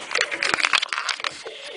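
Pigeons handled and held by the wings before a mite-treatment dip, cooing and fluttering in short bursts close by, with a little background voice.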